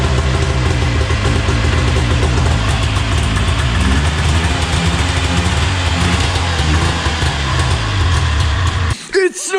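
A Jag 440 snowmobile engine idles steadily and loudly up close, a continuous low throbbing drone that cuts out abruptly near the end, when a voice briefly speaks.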